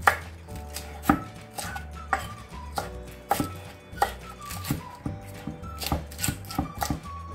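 A knife chopping napa cabbage on a cutting board, sliced diagonally into small pieces for water kimchi, a brisk series of sharp, close chops at an uneven rhythm, each landing as a distinct knock on the board.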